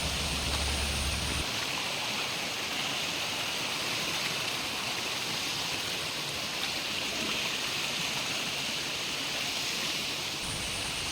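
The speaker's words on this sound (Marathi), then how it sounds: "बघा, दगडाच्या मधून पाणी येत आहे भरपूर." Water pours between rocks on the path up to Aasaawa Fort, a constant, close, full rushing that never lets up and fills the whole stretch without any voices.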